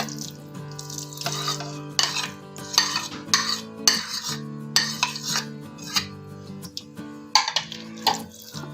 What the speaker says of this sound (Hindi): अब हम इस सब मिक्सचर को अच्छी तरह से मिक्स करेंगे।